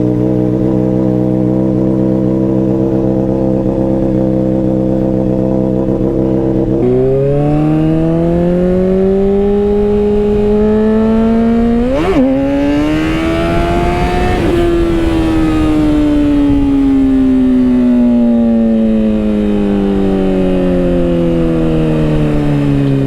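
A motorcycle with a new chain and sprockets cold-starts into a steady idle, then revs up in rising sweeps with a sharp blip before easing back down, loud and close throughout with no talking.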